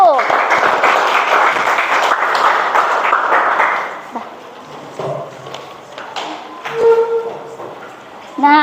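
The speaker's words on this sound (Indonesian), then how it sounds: "Oke, tepuk tangan dulu buat kelompok 1." A classroom audience claps for a presenting group, a lively round of applause lasting about four seconds before fading into quieter room sounds with talking and a few scattered knocks.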